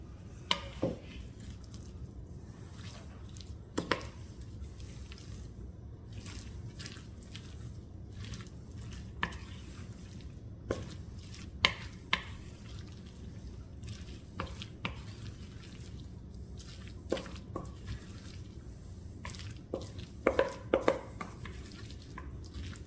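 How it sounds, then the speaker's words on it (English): Crab cake mixture of crab meat being mixed in a bowl, a soft, quiet run of squishy, wet stirring with scattered light taps and clinks against the bowl, close and steady with no talking. "now I'm just going to mix the two up"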